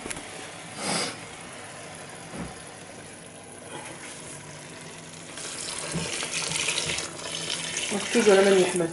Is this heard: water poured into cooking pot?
yes